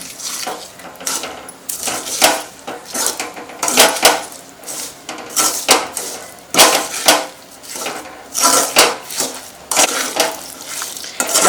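Ground mustard, fenugreek and cumin powders are mixed for fish pickle. A spoon scrapes and clanks against the metal vessel in loud, uneven, repeated strokes, with no talk.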